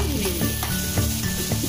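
Freshly grated, ground coconut sizzles in desi ghee in a pan while being stirred, giving a close, continuous frying crackle with rhythmic scraping strokes.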